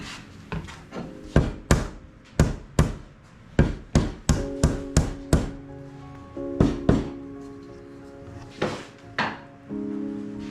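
Sharp hammer blows knock on wood during a woodworking project, about two dozen percussive strikes in irregular bursts, close and loud, with faint tonal ringing between hits and no talking.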